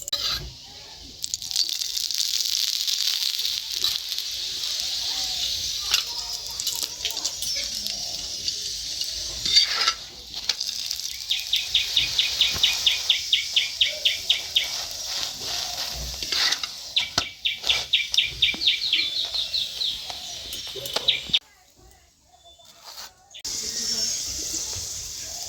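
Cauliflower paratha frying in ghee on a pan, a steady soft sizzle with occasional spatula scrapes and clinks, alongside a rhythmic chirping bird in the background and a voice speaking at times.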